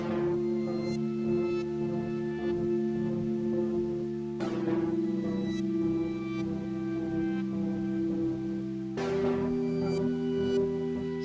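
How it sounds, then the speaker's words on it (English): Electric piano synth layered with an Arturia Matrix-12 V synth plays three long retro synthwave chords, each struck with a bright attack and left to sustain, close and clean with no speech. "And I have that layered with the Matrix 12V from Arturia."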